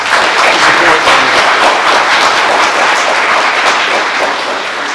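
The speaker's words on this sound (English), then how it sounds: "Let's give them a round of applause." Sustained audience applause for police officers at a police department promotion ceremony, a dense, steady wash of many hands clapping for the full stretch, close and loud.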